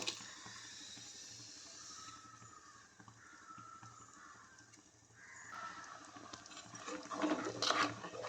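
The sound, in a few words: ground coconut paste poured into egg curry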